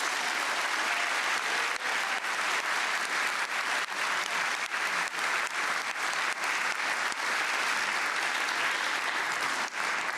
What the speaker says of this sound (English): Let's give the finalists and winners one more round of applause